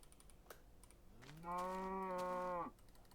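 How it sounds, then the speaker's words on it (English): A Minecraft cow lets out a single drawn-out moo lasting just over a second, clear and close, with faint keyboard clicking and light background noise around it. "Hello, cow."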